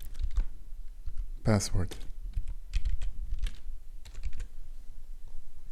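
Computer keyboard keys clatter in quick irregular bursts, close and fairly loud, alongside a brief spoken word, as login and grant-type fields are typed in for an authentication server request.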